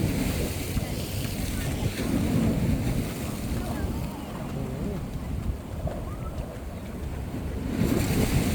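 Strong wind buffets the microphone at the seaside, with steady roaring gusts and waves washing in the background for several seconds; no one speaks.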